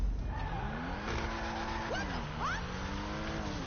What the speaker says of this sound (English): It's called an exhaust popping